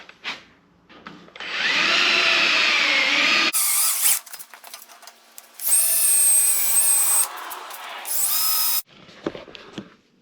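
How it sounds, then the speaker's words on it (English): A power drill with a countersink bit countersinks a hole in a pantry door, whirring loudly in several bursts of a few seconds each, close up, with pauses and small handling noises between them. "And then just a countersink bit."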